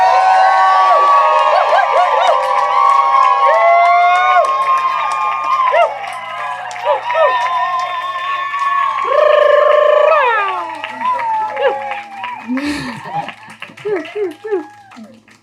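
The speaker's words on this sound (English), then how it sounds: "I want us to all give her a round of applause and or a shriek or a woo" Audience at a live talk with two speakers cheers, whoops and shrieks loudly over steady applause, with excited voices and high calls rising and falling before thinning out near the end.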